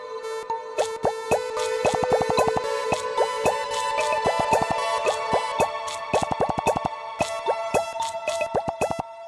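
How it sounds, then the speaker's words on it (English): Gyroid sounds from the game Animal Crossing New Horizons played from a custom Eurorack module firmware, a rapid series of bright plopping, bubbly tones in irregular bursts, clear and alone with no voices. "ACNH features sounds of gyroids from Animal Crossing New"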